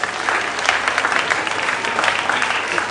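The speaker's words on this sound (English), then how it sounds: "Ladies and gentlemen, round of applause, please." A quiz competition audience gives a steady round of applause, dense and even clapping holding at a constant level throughout.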